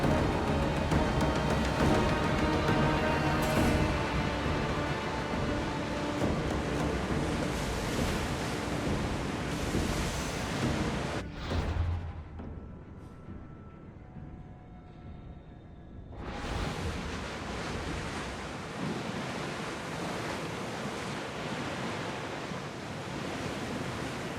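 A ship sails over ocean waves in the video game Assassin's Creed Odyssey, with a loud, continuous rush of surf and wind that drops out briefly partway through and then returns.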